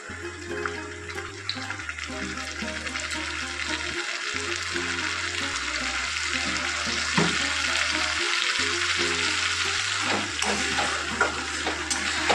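Ground ginger, garlic, green chilli and tomato paste fry with onions in a pan for a Bengali fish-head dish, a continuous wet sizzle and bubbling under a low steady hum, with no voices.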